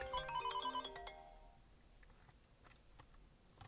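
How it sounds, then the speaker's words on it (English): A phone ringtone plays a short melodic tune close by, then cuts off, leaving faint room noise and small taps. "My phone ring."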